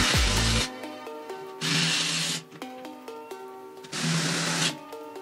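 A power screwdriver drives a screw into an aluminium window frame, three loud whirring bursts separated by short pauses, close and alone without speech.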